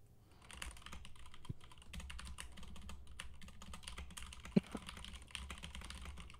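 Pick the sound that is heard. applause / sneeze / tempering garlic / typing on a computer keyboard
typing on a computer keyboard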